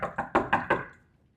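Knocking on a door: five sharp raps in quick succession, fairly loud and close, with no voices.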